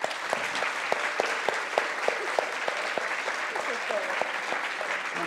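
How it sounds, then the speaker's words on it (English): An audience at a talk on diversity in STEM gives the speakers a round of applause, with steady, dense clapping and a few sharper individual claps standing out close by. "We'll give them all a round of applause for those fascinating and illuminating talks."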